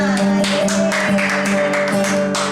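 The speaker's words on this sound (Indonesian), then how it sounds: "kita beri tepuk tangan dulu semuanya" Clapping from an audience at a church children's service, rhythmic hand claps ringing out over a sustained musical backing, fairly loud and close throughout.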